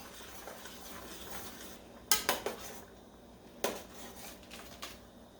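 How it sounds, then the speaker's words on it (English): A spoon stirring homemade potato soup in a metal pot gives a few sharp clinks and scrapes against the pot, with a quiet kitchen background between strikes. "Give that a good stir."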